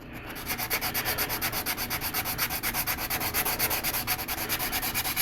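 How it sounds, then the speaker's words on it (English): Sandpaper rubbing primer on a 1/4 scale resin figure, fast rhythmic back-and-forth strokes at a steady pace, close and continuous with no talk. "So it seems like it's sanding okay."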